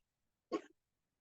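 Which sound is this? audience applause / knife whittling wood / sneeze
sneeze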